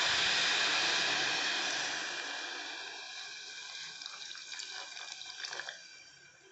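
Water pours steadily into a cooking pot of bachelor-style bottle gourd sambar, a loud rushing flow that tapers to a softer, uneven trickle toward the end.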